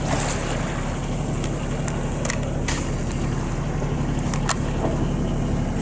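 A sailboat at sea is passed by another boat, heard as a steady rush of engine and water noise under strong wind buffeting the microphone, with waves splashing throughout.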